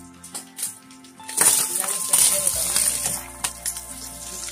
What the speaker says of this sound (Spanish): Ya se está abriendo mi tocino también.